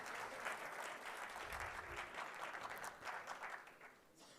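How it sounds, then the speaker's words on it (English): Audience at the Supercomputing India 2025 valedictory ceremony applauds, a faint, even wash of many hands clapping that holds steady and then tapers slightly toward the end. "that certainly deserves a big round of applause"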